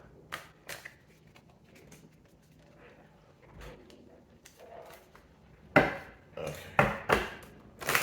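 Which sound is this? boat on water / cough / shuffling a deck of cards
shuffling a deck of cards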